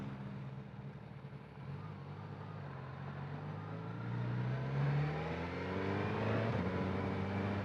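A 2022 Suzuki GSX-S1000 GT Plus motorcycle accelerates through the gears, its engine note rising and shifting pitch in steady sweeps, loud and continuous with no voices over it.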